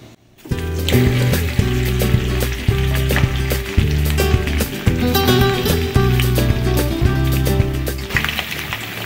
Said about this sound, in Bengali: ফোড়নটা ভাজা হয়ে গেছে, এর মধ্যে দিচ্ছি আলুগুলো